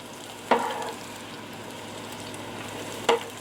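Onion rings coated in flour, liquid and breadcrumbs frying in hot oil, a steady quiet sizzle with two brief louder crackles when pieces are moved or dropped in.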